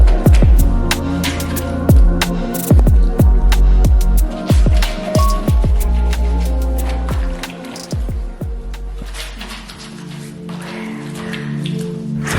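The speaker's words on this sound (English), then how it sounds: "Use hands to wash clothes in basin of soapy water" Clothes are hand-washed in a basin of soapy water, giving repeated wet squelches and splashing slaps in an uneven rhythm, close and loud, that ease into softer sloshing toward the end.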